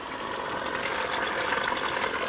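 An electric water pump on a farm in Barbosa, Antioquia, lifting spring water up to a farmhouse, giving a steady, continuous rushing hiss of flowing water at close range with no voices.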